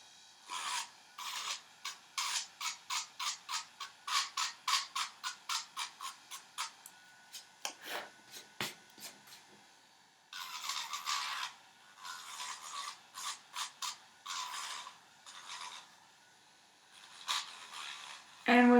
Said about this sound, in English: And with these drills, they don't hurt your finger.